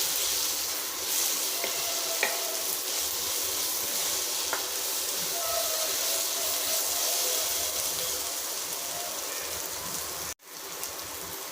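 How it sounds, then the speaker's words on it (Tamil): Onion and tomato sautéing in a pan with turmeric and chilli powder for a chicken gravy, with a continuous even sizzle heard close up that cuts out briefly near the end. "வெங்காயம் தக்காளி வந்து நல்லா வதங்கிடுச்சு இப்போ கால் டீஸ்பூன் மஞ்சளும் அரை டீஸ்பூன் மிளகாத்தூள்"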